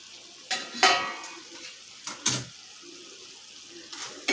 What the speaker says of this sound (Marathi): झाकण काढलं की एकदा छान हलवून घ्यायचं आहे